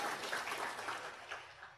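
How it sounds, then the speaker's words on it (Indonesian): Continuous audience applause fills the space with dense, even clapping, steady throughout and slightly fading toward the end, with no clear voices over it. "Ya tepuk tangan yang ke Korea gitu"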